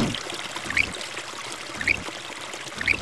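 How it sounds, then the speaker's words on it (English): Water runs continuously from a fountain in the video game Piglet's Big Game, a soft steady trickle with a brighter splash recurring roughly once a second. "There's the fountain."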